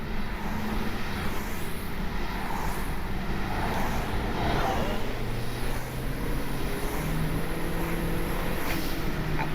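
A turbocharged Honda Civic with an R18 engine on a part-throttle test drive, a continuous engine drone and road noise heard from inside the car, with no talk.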